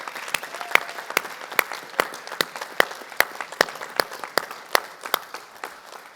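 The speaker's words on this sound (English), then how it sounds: "how about a round of applause for our candidates?" An audience at a San Antonio mayoral forum held at Our Lady of the Lake University applauds the candidates, with a dense wash of clapping and a few loud, sharp individual claps standing out near the microphone.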